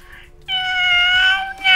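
A cat meows loudly and close up in a Minecraft game scene, one long drawn-out cry after a brief quieter sound, then the start of another meow.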